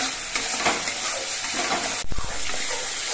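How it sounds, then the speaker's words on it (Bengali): A spice paste with salt and turmeric is stirred and fried in a pan for a fish dish, giving a steady close sizzle with scraping stirs and one sharp clink of the utensil partway through. "এবার নেড়ে ফেড়ে মিশিয়ে নিতে হবে মশলাটা আরও কিছুক্ষণ কষিয়ে নিতে হবে"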